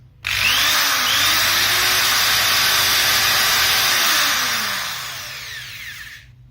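A Cheston 350W electric drill spins clockwise under its own power, giving a loud, steady whine with a rising pitch at startup and a gradual fade as it spins down over about six seconds.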